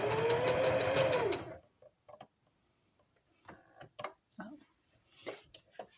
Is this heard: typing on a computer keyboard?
no